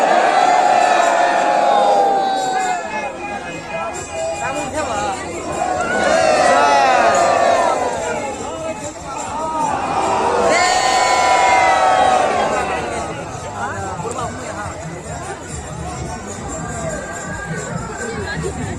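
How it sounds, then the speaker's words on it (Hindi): A large crowd of Kanwar pilgrims on the Bol Bam foot pilgrimage at Deoghar, Jharkhand, roars and chants continuously, with loud shouts swelling in repeated waves over a dense, steady babble. "भीड़ देखिए कितना ज़्यादा हो गया है।"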